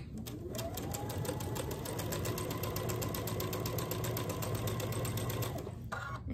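A sewing machine runs steadily for several seconds, stitching quilt pieces sewn right sides together with a quarter-inch seam, a close, even rapid whir that stops near the end.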